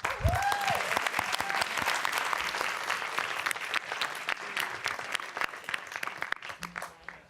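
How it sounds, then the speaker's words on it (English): Audience applause for a panel at an event, many hands clapping in a full, sustained round that gradually thins and fades toward the end. "let's give one last round of applause for our distinguished panel"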